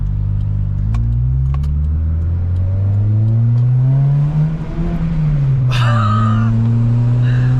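A 2001 Toyota Corolla with a manual gearbox revs loudly up and down through gear changes, its engine note rising, dipping and rising again, heard up close from inside the car.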